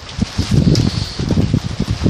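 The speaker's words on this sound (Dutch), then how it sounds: "maar het is te winderig." Strong gusty wind outdoors buffets a garden tent cloth put up around raspberry bushes, a loud close rustling and flapping roar in quick surges with no talk.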